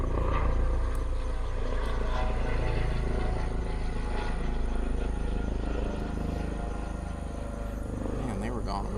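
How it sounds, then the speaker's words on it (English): A medevac helicopter passes overhead at night as a continuous loud rotor drone and engine rumble, steady throughout, with someone talking over it. "Pardon the helicopter flying over."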